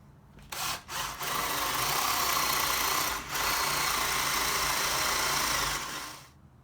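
A power drill bores up through the underside of a wooden pedalboard to finish a hole, a loud steady whine that runs for about five seconds, with brief dips near the start and in the middle before winding down.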